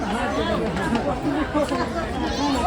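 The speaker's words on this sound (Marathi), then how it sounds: "गर्दी बघा किती आहे गर्दी." Visitors chatter at the crowded Byculla zoo (Rani Bagh) in Mumbai, a steady babble of nearby voices with one or two talkers standing out above the general hubbub.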